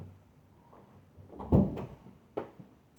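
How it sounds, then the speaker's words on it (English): A room door is pushed shut at home, a solid thump followed by a softer knock and a latch click, close by in a quiet room with no talking. "Actually, I'm going to shut my door."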